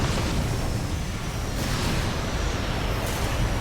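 Heavy, continuous rumbling blasts of missile explosions in the mech combat game Armored Core VI, loud and dense, with no break and no talk.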